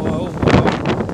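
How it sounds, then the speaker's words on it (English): Cyclone Fani winds of around 150 km/h roar in gusty surges, a loud, rushing blast that pounds the microphone throughout. "this is a few glimpse of that cyclone, and here you can see the winds"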